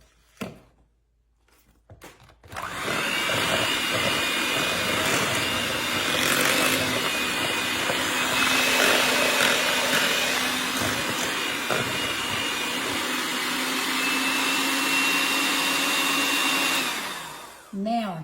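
An electric mixer whirring through cream cheese, powdered sugar, vanilla and heavy whipping cream, a loud steady motor whine that starts after a short pause and runs continuously before cutting off.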